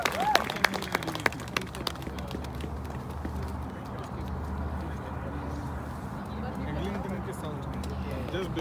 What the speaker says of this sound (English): So round of applause for the organizers, for the volunteers, and for all of you for showing up